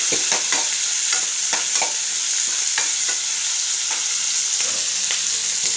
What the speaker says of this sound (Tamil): ஒரு பெரிய வெங்காயம் கட் பண்ணி போட்டு நல்லா வதக்கிட்டேன்